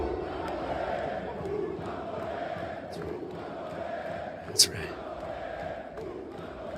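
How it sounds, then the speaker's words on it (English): A UFC arena crowd roars and chants in Portuguese, a massed, rhythmic swell of voices at a distance under a brief close spoken remark. "They're chanting "You will die" in Portuguese"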